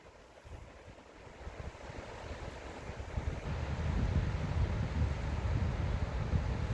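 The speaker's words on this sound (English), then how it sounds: "This is the Salt River." Flowing water of the Salt River in Arizona beside an old bridge upstream of Roosevelt Lake, a steady broadband rush with some wind, building louder over the last few seconds, with no voices.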